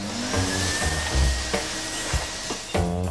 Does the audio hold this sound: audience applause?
no